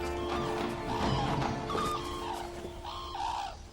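A noisy flock of red-crowned cranes on Hokkaido, overlapping loud trumpeting and bugling calls in bursts over a steady background din.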